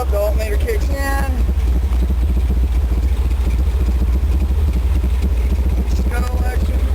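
A modified 454 engine runs loud and close with a heavy, throbbing low rumble that holds steady throughout, while someone talks briefly over it at the start and again near the end.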